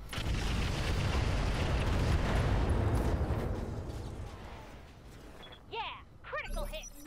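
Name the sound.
mech weapons firing and exploding in Roguetech video game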